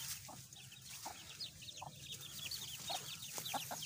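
Chickens and chicks on a rural property, with repeated soft clucks and high peeping chirps scattered throughout, faint and moderately distant against a steady low background.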